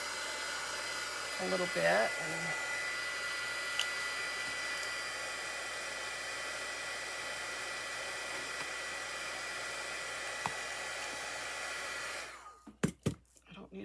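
A hair dryer blows continuously, drying painted craft rocks, its steady loud whir running for most of the stretch before it shuts off with a few handling knocks; a voice speaks briefly over it.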